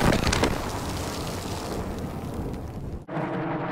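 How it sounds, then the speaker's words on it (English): Grenade going off in a video game, a loud rumbling blast with crackling debris that sustains for about three seconds, cuts off abruptly, then gives way to a quieter lingering roar. "that's a grenade, Jerry"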